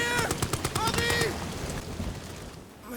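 Rapid, evenly spaced machine-gun bursts from a World War I trench battle in the game Amnesia: The Bunker, loud at first and then fading under a rumbling din while someone narrates over it.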